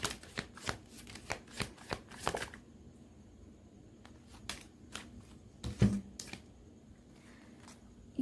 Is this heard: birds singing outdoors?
no